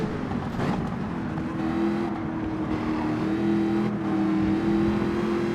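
Race cars, including a Mazda, roar through a Gran Turismo 7 race, engines holding a steady loud drone with rising whine as they accelerate, no talking over it.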